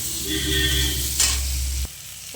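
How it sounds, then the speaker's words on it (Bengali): Potatoes fry in oil with a loud, close sizzle that holds steady for about two seconds, then cuts off abruptly. "এটা আলুটা ভাজবো"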